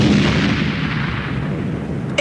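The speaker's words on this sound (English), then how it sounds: "There came the roar of an explosion." A loud explosion effect from a read-along Transformers story: a heavy, rumbling roar that fills the clip and rolls on like sustained artillery fire, ending with a brief sharp tone.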